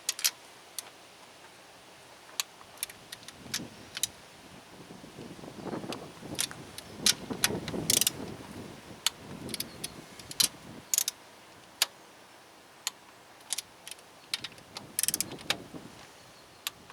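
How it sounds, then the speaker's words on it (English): A ratchet clicks in short bursts while tightening valve cover bolts on a Honda B18C1 engine, with sharp metallic ticks spread irregularly across the stretch, fairly close and moderately loud against a quiet background. "it's taking a lot of ratcheting, but you get the idea"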